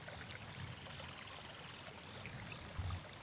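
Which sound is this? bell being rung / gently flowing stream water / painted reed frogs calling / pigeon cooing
gently flowing stream water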